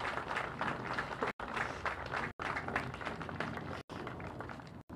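Applause from an audience at a nightclub fire memorial ceremony, a sustained dense patter of clapping that fills the space, broken by a few brief dropouts.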